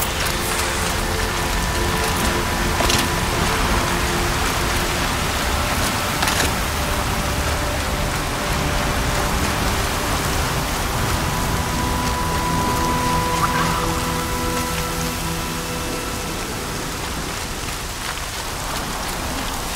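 Steady heavy rain falls continuously in Horizon Zero Dawn, a dense hiss of drops on surfaces with faint mechanical clicks and a soft tonal hum underneath, constant and close throughout.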